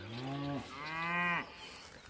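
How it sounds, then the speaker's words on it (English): A cow on a farm during spring calving, among newborn calves, gives two close, loud, drawn-out moos in quick succession, with the second rising higher. "Nice little baby calves, doing pretty good."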